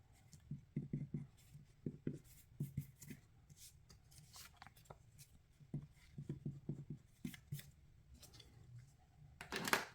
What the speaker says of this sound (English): Erase those marks.